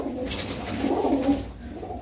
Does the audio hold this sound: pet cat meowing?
no